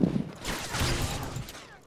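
Rapid gunfire in Modern Warfare 3 on PC, a short fusillade of shots blurring into a rumbling burst, moderately loud, ending with a sharper crack.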